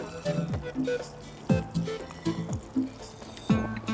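Thick onion paste pours and plops into a pan in a few short wet bursts, with soft dribbling sounds in between.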